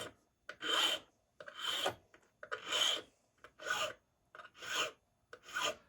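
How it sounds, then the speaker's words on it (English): A metal file rasps across the cut surfaces of a key blank for an antique Corbin padlock, six distinct strokes in a steady rhythm with short pauses between, close and clear with no talking. "I'm going to just use my file to clean those surfaces up."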